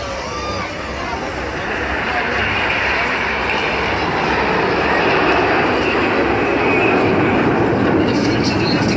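Broad, loud roaring rush of a Eurofighter Typhoon jet passing at a Red Arrows airshow in Weymouth, a continuous dense swell that builds slightly toward the end, with crowd noise mixed in.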